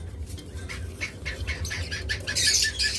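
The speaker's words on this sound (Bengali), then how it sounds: "চমৎকার পাইনাপেল কনুর জোড়া যাদের লাগবে একদম মাস্টার পেয়ার জোড়া" A breeding pair of pineapple conures flap their wings in a quick, close burst of fluttering beats, with a few bright chirps and squawks toward the end.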